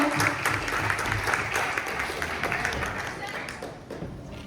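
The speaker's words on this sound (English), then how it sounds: "Clap for these guys." Audience applause at a networking event, a steady wash of many hands clapping for several seconds, with chatter and cheering mixed in and slowly easing toward the end.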